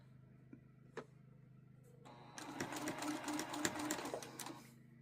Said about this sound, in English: I lock in my stitch.